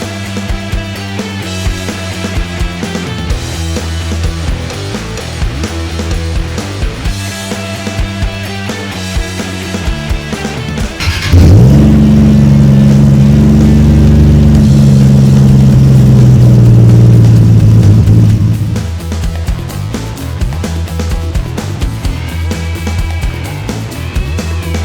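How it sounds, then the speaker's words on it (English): A 1000HP 2JZ-powered Nissan S15 on a dyno, idling and burbling, then roaring through a loud rising pull for about seven seconds before dropping back to a lumpy idle. "we dynoed the S15"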